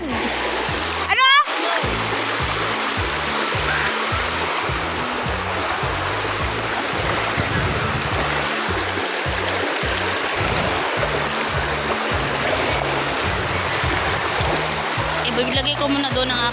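Strong river current rushing and splashing loudly and steadily throughout, a broadband wash of flowing water close by, with a brief voice near the start and low thumping handling noise underneath.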